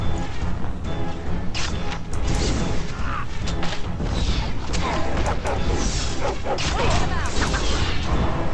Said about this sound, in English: Ah, love my dog.